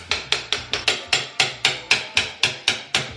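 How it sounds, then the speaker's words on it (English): About a dozen sharp hammer blows strike in a steady, quick rhythm, each a crisp knock with a short decay, close by, as baseboards are removed in a pantry. "we're gonna be using this and a hammer to remove the baseboards"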